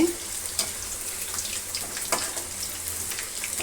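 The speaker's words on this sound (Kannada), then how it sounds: "ಚೆನ್ನಾಗಿ ಫ್ರೈ ಆದಷ್ಟು ಒಳ್ಳೆ ಟೇಸ್ಟ್ ಬರುತ್ತೆ ಚೆನ್ನಾಗಿ ಫ್ರೈ ಆಗಲಿ" Chicken masala kabab pieces frying in hot oil, giving a steady close hiss of sizzling with a few small pops, continuous and without talk.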